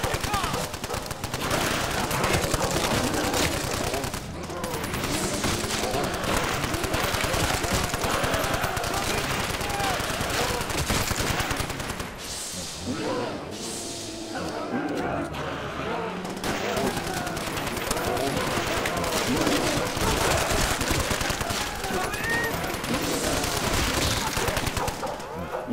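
Browning machine gun in the Nazi Zombies game fires in long, sustained bursts, loud and dense throughout, with a short lull midway and game effects mixed in.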